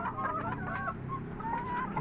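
Laying hens in battery cages cluck steadily and close, overlapping soft calls with a few sharper squawks, forming a continuous busy coop chorus with no voices.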